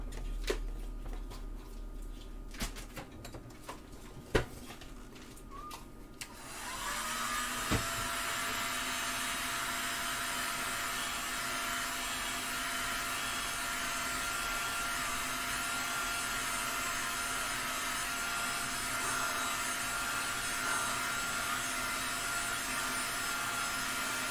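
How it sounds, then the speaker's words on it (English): A heat gun blows steadily across a Sundown SAZ3500 amplifier circuit board, a continuous broadband roar that starts after a few seconds of light clicks and handling, then holds loud and even to the end. "let's take a heat gun and preheat the whole board and make life a lot easier"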